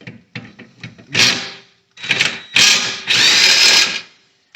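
An impact wrench loosens the nut at the bottom of a strut on a 2020 Subaru STI during a spring installation: a few short, close, loud mechanical bursts lead into a longer final rattling run.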